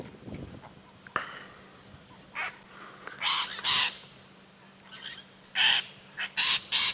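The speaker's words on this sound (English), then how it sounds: "It's called a lilac-breasted roller." Harsh, raspy calls of a lilac-breasted roller at dusk on a safari drive, several short bursts clustered near the end, over a quiet background with faint distant noise.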